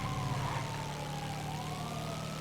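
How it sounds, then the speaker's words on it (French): Wailing police sirens in the Grand Theft Auto V game, faint and somewhat distant tones sweeping up and down over a low engine rumble, with no voices. "J'entends les sirènes partout."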